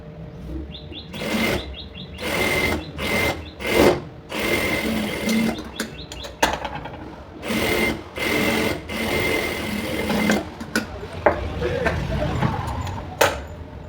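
A sewing machine stitches a lined blouse in short, rapid bursts with pauses between runs, close and fairly loud, with faint bird chirps in the background.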